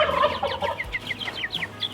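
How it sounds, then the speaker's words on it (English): Backyard poultry, likely a young rooster, giving a rapid series of short, squawky, gobble-like calls at close range, with no voices. "I think it's a rooster."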